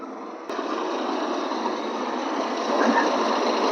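A Massey Ferguson 241 tractor fitted with a heavy bumper idles at the Moga tractor market, giving off a steady, close diesel drone that holds level and swells slightly toward the end.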